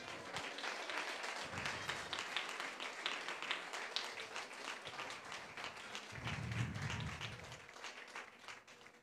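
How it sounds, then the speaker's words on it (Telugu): A church congregation at a worship service claps together in a sustained round, a quiet, steady patter of many hands heard at a distance, with a low rumble partway through. "గట్టిగా చప్పట్లు కొట్టి ఒక్కసారి."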